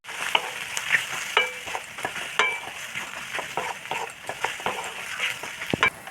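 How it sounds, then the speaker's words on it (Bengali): Spices with black salt, turmeric and Kashmiri chili powder sizzle in a pan while a utensil stirs and scrapes them, giving steady close frying crackle broken by repeated scraping strokes, with no voices. "মশলাটা ভালো করে কষে নিচ্ছি।"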